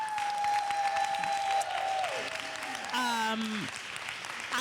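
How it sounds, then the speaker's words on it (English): An audience at a breast cancer awareness summit panel applauds Ricky and Trudy, steady clapping running the whole stretch beneath tonal music or voice lines that slide downward. "can we give a round of applause?"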